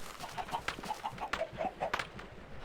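Minecraft chickens clucking in a quick run of short, repeated clucks, fairly close and steady, with no talking over them.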